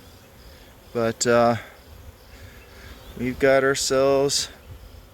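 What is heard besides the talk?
honeybee afterswarm buzzing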